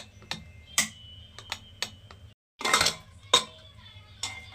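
A whistle weight is lifted off a pressure cooker after boiling peas for dal, giving a run of sharp metallic clicks and taps with a short hiss burst in the middle, close and fairly quiet.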